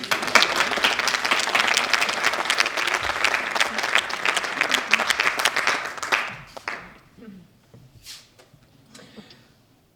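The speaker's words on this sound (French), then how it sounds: "je vous demande d'applaudir Néopathe" An audience applauds a guest being called up at a talk event, dense loud clapping for about six seconds that quickly fades to a few scattered claps and quiet room noise.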